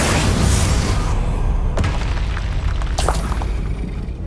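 Bombarda explosion spell cast in Hogwarts Legacy, a loud booming blast with a heavy low rumble that rolls on, broken by a couple of sharp cracking bursts.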